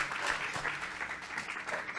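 Audience applause for Patrícia Palumbo at a book fair event, a steady dense clapping from a crowd that holds evenly for a couple of seconds without any voices.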